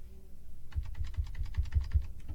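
Computer keyboard typing during a Magic: The Gathering tournament match, a quick burst of many rapid key clicks starting after a short quiet pause and continuing steadily to the end.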